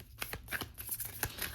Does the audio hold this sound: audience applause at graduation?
no